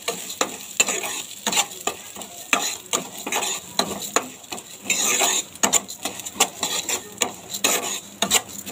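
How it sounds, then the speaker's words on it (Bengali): Moong dal frying in very hot mustard oil, a dense steady sizzle broken by quick rattling scrapes of a spatula stirring the lentils, close and continuous. "তেলটা খুব হিট হয়ে গেছে, তো মুগ ডালটা আমি ভেজে নেব"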